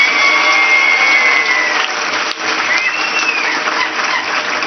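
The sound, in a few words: audience applause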